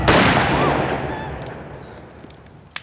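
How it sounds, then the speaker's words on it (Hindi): A single loud gunshot sound effect in an audio story, a sharp blast with a long echoing decay that fades over a couple of seconds, then a brief faint click. "शहरी ने गोली चलाई"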